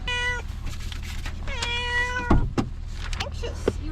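A heavy male cat meows loudly and close, several drawn-out cries in quick succession, punctuated by a couple of sharp thumps.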